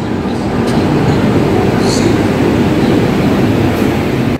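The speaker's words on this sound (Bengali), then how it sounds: "এই আমাদের India's fastest train Gatimaan express Agra can't স্টেশনে 1 নম্বর প্ল্যাটফর্মে এসে গেছে" Gatimaan Express pulling into platform 1 at Agra Cantt station, a steady loud rumble of rolling coaches filling the whole stretch with a faint high squeal near the middle, no voices over it.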